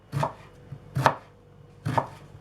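A knife finely chopping onion on a cutting board: three distinct, close chopping strikes spaced about a second apart, with quiet pauses between them and no talking.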